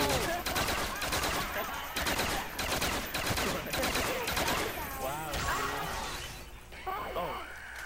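Rapid video game gunfire, loud bursts of machine-gun shots and crashing impacts that come in quick repeated volleys, with excited voices talking and shouting over the shooting throughout.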